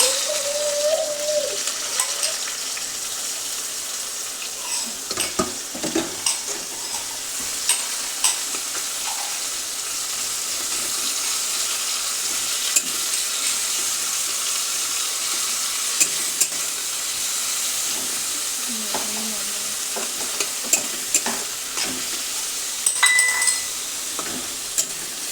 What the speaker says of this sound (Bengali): এবার পেঁয়াজ কুচিগুলো একটু দিয়ে দিলাম।